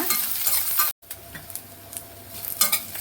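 Garlic and green chilies sauté in hot oil for a Tamil moong dal dosa dish, giving a steady close sizzle with light stirring scrapes and a brief dropout near the one-second mark.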